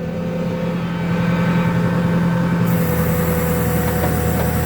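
Backhoe loader engine laboring as the bucket digs into soil during an operator licence practical exam, a loud steady diesel drone with the revs rising partway through, close and continuous with no talk.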